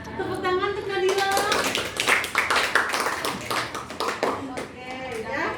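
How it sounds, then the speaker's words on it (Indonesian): Students clapping in a classroom during a peer-teaching session, quick uneven handclaps from a small group, mixed with voices and light laughter throughout. "tepuk tangan untuk Nadila"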